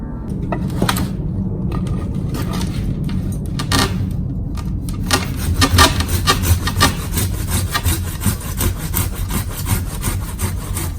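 A hand saw cuts a sloping stroke through a yew bonsai branch, a loud close rhythmic rasp of back-and-forth strokes that continues steadily with no voices.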